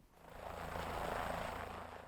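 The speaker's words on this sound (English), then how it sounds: "the helicopter will bring in a sheep" Helicopter flying in during a bighorn sheep capture in John Day Canyon, Oregon: a steady broadband rotor and engine roar swelling gradually louder as it approaches, then easing slightly, with no talk.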